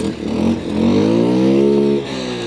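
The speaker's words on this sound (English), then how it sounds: "These are the quads that we're going to be riding." Quad bike engines run close by in Marrakesh, a loud steady motor drone that rises in pitch as one revs up, then settles back to idle, with no talk.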